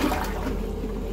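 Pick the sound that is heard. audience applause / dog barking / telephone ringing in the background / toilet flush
toilet flush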